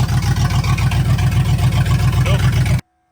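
A 1969 Chevy Blazer engine that has just fired up idles with a loud, rhythmic, low throb from close by and cuts off abruptly after about three seconds.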